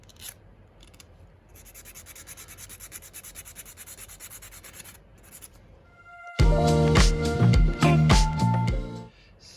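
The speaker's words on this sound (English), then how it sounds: "take your nail file and just sand it down to smooth it all out" A nail file sands down a small craft piece for a candle stand, faint quick scratching strokes at first, then a louder, harsher burst of close rubbing and scraping near the end.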